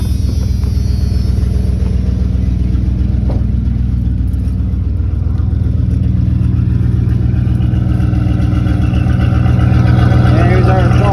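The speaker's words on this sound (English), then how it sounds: "this truck's got a catalytic converter delete. That's why it sounds a little louder." Loud, steady idle from a 1994 Dodge Ram 5.2 with a catalytic converter delete, a deep throaty rumble close by that barely changes over the whole stretch.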